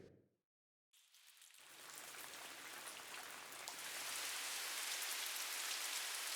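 A game audio rain effect starts after a moment of silence and builds into a steady, dense hiss of falling drops that grows slightly heavier.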